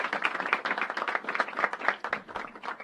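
A crowd at a senators' press conference on a cannabis reform bill claps steadily for honored guests, dense overlapping handclaps filling the room without pause for about three seconds.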